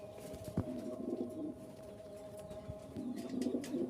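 Pigeons coo inside a pigeon coop, soft low rolling coos recurring in the background amid faint rustles and scattered clicks.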